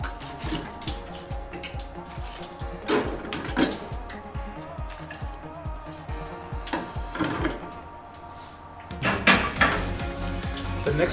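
Golden brown Scotch eggs lifted from the fryer and set into a metal grease tray, with repeated close clinks and clatters of tongs and metal in a busy commercial kitchen, no talking.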